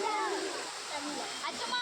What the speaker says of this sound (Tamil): அந்த அருவி கொட்டுறதை பார்க்கவே அவ்வளோ அழகாக இருந்தது